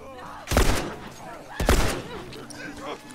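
Two loud bursts of gunfire ring out close together in The Last of Us Remastered, sharp cracks with echoing tails, while game voices murmur between the shots.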